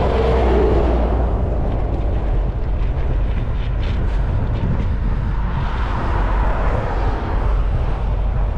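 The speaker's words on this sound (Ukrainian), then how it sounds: "Вітер помінявся." Heavy wind buffets the microphone while cycling through the city streets of Poltava, a loud continuous low roar that fills the whole stretch without pause.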